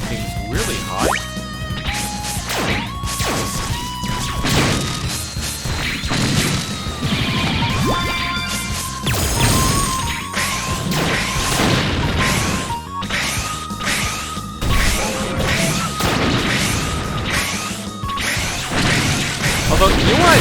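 Loud, busy sound effects from the video game Mega Man X Dive: repeated crashes, impacts, whooshes and electronic blips stack densely over a constant game backdrop, with a voice talking intermittently underneath.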